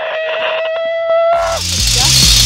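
A gas-converted Razor E200 scooter with no muffler roars into life partway through, a loud, raw, rattling engine drone that follows an earlier stretch of tonal whine.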